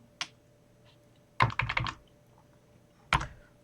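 A computer keyboard used to enter a command on a Cisco router, heard as a single tap, then a quick cluster of clacking keystrokes and a final keypress, close up in a quiet room.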